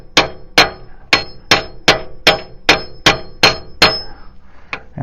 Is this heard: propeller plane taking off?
no